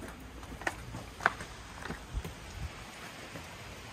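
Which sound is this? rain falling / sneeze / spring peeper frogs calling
rain falling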